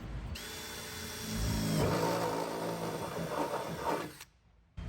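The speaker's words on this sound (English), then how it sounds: "I'm gonna run a hole through here into the armrest. This is a 5/16 bit." Drill boring a hole with a 5/16 bit through a pontoon boat armrest, a steady whirring grind that rises, holds for a few seconds, then cuts off to near silence.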